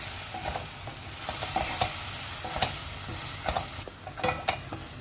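Fried chicken gravy with garam masala and chilli powder is stirred in a hot pan, giving a constant sizzle broken by irregular scraping and knocking of the spoon against the metal, near and moderately loud, with no voices.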